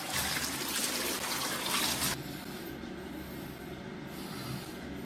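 Steady rush of running water during hair washing, loud and close for about two seconds, then cutting to a quieter, duller flow for the rest.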